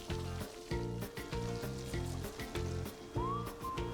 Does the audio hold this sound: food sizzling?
yes